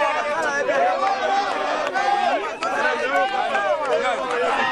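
A dense crowd in Kikwit gathered around an official's motorcade, a close, continuous babble of many overlapping voices with shouting and excited chatter throughout.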